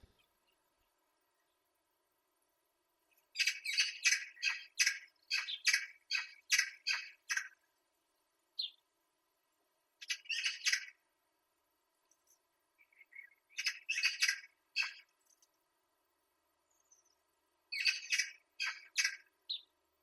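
Two magpies chatter back and forth in harsh, rapid rattling bursts, several clustered volleys with short pauses between, fairly close and clear against a quiet background.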